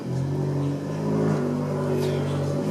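A Fiat Abarth small car drives on the road, its engine humming steadily from inside the cabin with faint rising revs, moderately quiet and continuous with no talk.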